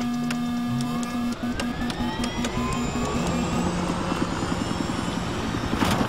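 A helicopter in the Battlefield video game gives off a steady, droning rotor whine and hum with a pulsing chop, continuous and fairly loud with no talk.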